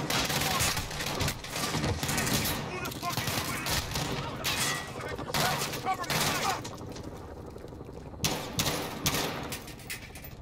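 Rapid gunfire in Call of Duty Modern Warfare campaign, repeated sharp shots in bursts with short gaps, loud and close over game noise, with some speech mixed in.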